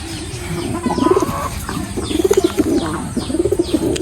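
Pigeons, including a male Almond Pouter, coo close by in repeated rolling bursts, several rounds of soft throaty calls over light background noise.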